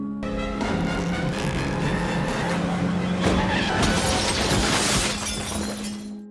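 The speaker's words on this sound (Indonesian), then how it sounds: "Laurie ngerem mendadak sehingga Michael terpental keluar dari mobil" A film car brakes suddenly, tires skidding loudly amid crashing, shattering sounds as a body is thrown from the vehicle, all packed into a few seconds of dense noise.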